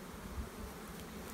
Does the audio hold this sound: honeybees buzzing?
yes